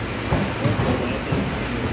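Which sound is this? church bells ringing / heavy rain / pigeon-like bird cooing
heavy rain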